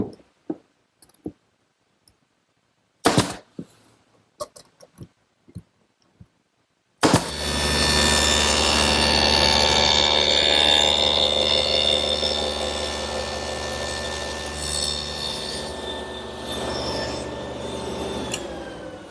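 On a woodworking shop table saw, a dado set cuts a groove in a wooden jewelry-box tray. Scattered clicks and handling knocks come first, then the saw starts abruptly into a loud, sustained whine with a cutting roar that holds steady until the end.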